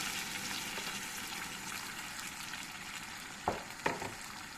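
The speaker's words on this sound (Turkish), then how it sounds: "Ve yemeğimizin sıcak suyunu üzerine geçene kadar suyunu verelim." Sizzling pickled cabbage in a pan as hot water goes in, a steady frying hiss with two brief sharp splashes of liquid near the end, close and without speech.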